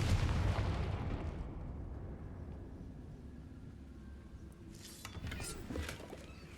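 An explosive Confringo spell from the Hogwarts Legacy video game goes off as a loud, low boom at the start, then fades into a rumbling tail before a second burst of crackling impact noise near the end.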